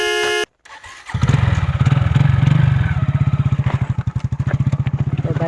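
A motorcycle's engine catches after a brief cutoff and settles into a loud, close, pulsing rhythm that chugs and revs unevenly as it rides.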